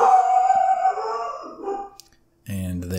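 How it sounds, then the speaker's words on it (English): A dog howls nearby, a long wavering cry that trails off, then after a brief silence another loud howl starts. "And there's the dog."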